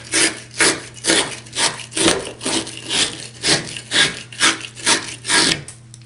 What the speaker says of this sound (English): Abrasive internal pipe cleaning brush.